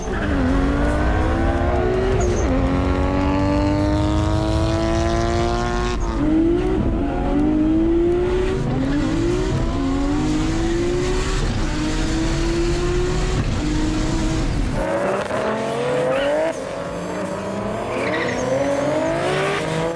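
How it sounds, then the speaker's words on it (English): Several Nissan Skyline GT-Rs and R35 GT-Rs roar around a race track in New Zealand, engines revving and shifting through gears as they pass, with occasional tire squeal, loud and continuous. "there was plenty of cars out on track having some fun"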